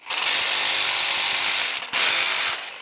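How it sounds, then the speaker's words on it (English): A Sawzall rips through the driveline slip yoke on a Jeep with a loud, steady, harsh reciprocating buzz, close up, broken by one brief pause before cutting resumes. "I'm just going to finish it off with a Sawzall and get this thing off there"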